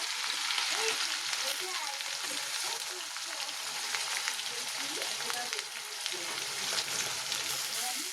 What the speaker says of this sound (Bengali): তেলটা গরম হয়ে গেছে। ফার্স্টে আমি দিয়ে দেবো রসুনটা। রসুনটা দেওয়ার পরে পেঁয়াজ কুচিটা দিয়ে দেবো।